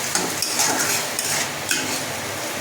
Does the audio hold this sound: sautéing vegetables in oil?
yes